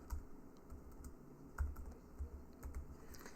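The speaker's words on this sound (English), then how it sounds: "you would just simply type your name down here" Someone types a short name on a computer keyboard: soft, quiet, uneven keystrokes tapping in small bursts at close range with pauses between.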